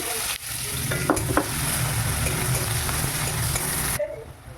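Chopped onion fries with dried chili and bay leaves, giving a loud, dense sizzle that runs almost unbroken. A couple of quick utensil taps come early, then the frying cuts off abruptly near the end.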